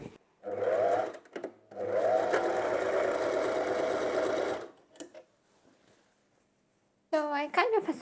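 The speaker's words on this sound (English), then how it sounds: "I'm gonna sew it to the back and to the front, then turn it, and then sew it together." A sewing machine stitches pyjama pants in two long whirring runs broken by short pauses, then a quieter stretch before a voice speaks at the end.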